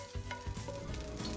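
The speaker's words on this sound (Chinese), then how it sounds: "再把打好的鸡蛋白给放进去翻炒一下" Egg whites sizzle in hot lard in a wok over medium heat, a soft, steady frying hiss broken by a few quick taps of the spatula as they are stirred.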